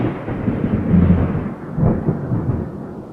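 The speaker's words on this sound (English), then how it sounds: "Thunder clapped and lightning flashed through the narrow window panes of the stone tower." Thunder clap with a deep rolling rumble, two heavy swells of low booming over a faint rain-like wash, loud and close with no voices.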